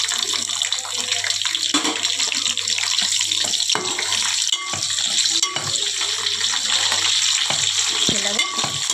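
Onions frying in a hot tempering of oil and spices give a loud, steady sizzle, with occasional scrapes and stirs of a utensil in the pan, close up and without voices.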